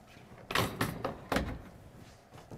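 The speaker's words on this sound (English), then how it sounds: "and close your tailgate" A pickup truck tailgate is closed while an Extang Solid Fold 2.0 toolbox tonneau cover is in use, giving a few sharp, close thumps and bangs with a quieter knock at the end and no voices.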